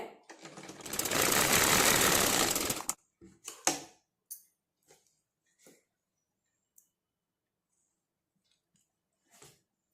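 A sewing machine stitches a cup dart on a blouse front in a dense, steady whir lasting about three seconds, then stops; a few scattered clicks and rustles of fabric handling follow in near silence.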